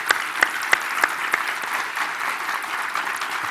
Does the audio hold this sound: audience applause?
yes